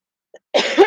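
A single short, rough cough bursts out close to the microphone after a tiny throat sound, outdoors in a yard with no other noise.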